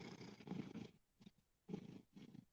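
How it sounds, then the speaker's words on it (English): A big fluffy cat purring, heard close but very faint as rhythmic rumbling pulses in breaths of about half a second, with short pauses between them. "Can you hear him purr?"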